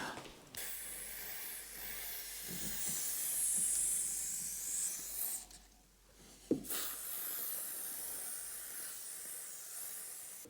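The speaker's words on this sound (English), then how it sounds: "we'll simply be using some silicone spray" Two long bursts of silicone lubricant spray hiss steadily at close range, separated by a short pause with a faint click, quiet and sustained, during interior restoration of a BMW E46 330ci.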